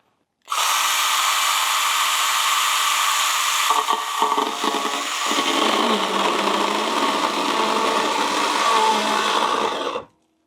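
A STIHL GTA 26 cordless mini chainsaw runs in one continuous whine, close and loud, as it struggles to cut, its tone dipping and roughening partway through before it cuts off.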